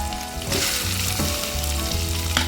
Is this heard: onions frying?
yes